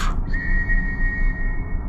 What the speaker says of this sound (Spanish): Entonces escuché un silbato en el corredor.